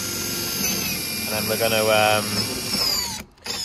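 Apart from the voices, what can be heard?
power drill drilling holes in a VW T4 camper roof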